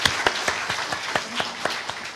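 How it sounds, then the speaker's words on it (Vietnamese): A small audience at a university student talk gives applause for a woman being thanked, heard as sparse, distinct claps that ring out individually over a quiet room and then thin out. "Xin các bạn cho tràng pháo tay cho cô Ly."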